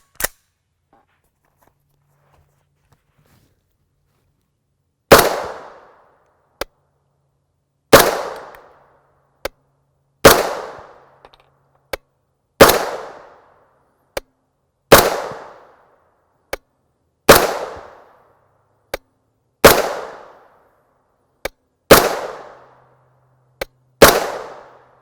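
A 9mm MK9 pistol with Cerakote finish and stabilizing brace fires 115-grain FMJ Steel Ops rounds in nine loud, sharp, evenly spaced single shots, each with a short echoing decay, after a few seconds of near silence.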